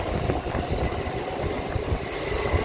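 A Chennai local train of Vande Bharat-style design with alternating powered axles accelerates hard at night, a dense continuous rumble with rolling wheel clatter, heard from aboard and fairly loud.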